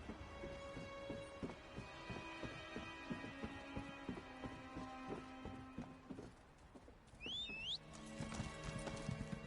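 Horse hooves clip-clop in a steady trotting rhythm through a mounted ride in Elder Scrolls Online, backed by a continuous ambient music bed, with a brief swooping effect near the end.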